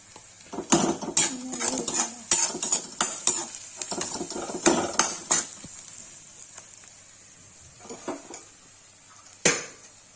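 Onions and red masala are stirred in a cooking pan for egg curry: a spoon scrapes and clanks against the metal in quick, irregular strokes over a soft sizzle, close and fairly loud, then fading to sparse knocks.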